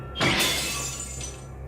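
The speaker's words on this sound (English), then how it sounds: "it shatters instantly in the face of Merodach" A golden sword shatters in the Fate/Stay Night visual novel game: one sharp, glassy breaking burst, followed by a fading tinkling decay, heard alone.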